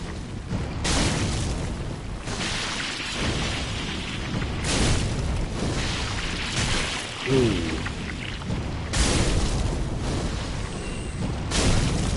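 Pyromancy fire attacks in Dark Souls 3 go off as several loud, rumbling booms at intervals, each swelling and fading over steady game background noise.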